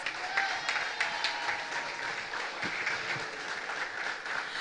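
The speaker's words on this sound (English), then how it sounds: "Let us join together and give the Honorable Minister a round of applause." A crowd claps for the Honourable Minister at a street political rally, steady moderately distant applause with no talking over it.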